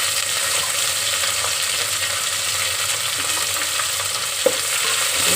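Mint leaves and coriander frying in hot oil for a gutti vankaya bagara rice, giving a steady, even sizzle that runs throughout, with one brief sharp pop near the end.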